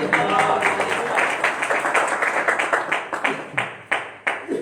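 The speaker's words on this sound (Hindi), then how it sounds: "जोर से ताली बजा कर प्रभु धन्यवाद" A church congregation claps loudly together, first in a dense burst, then settling into a series of distinct, evenly spaced group claps toward the end.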